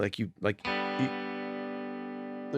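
An electric guitar plays a few quick plucked notes, then one chord rings out and sustains steadily with a light reverb tail, loud and close.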